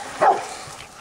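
A single short dog bark in an outdoor setting, moderately loud and close, with light background noise afterward.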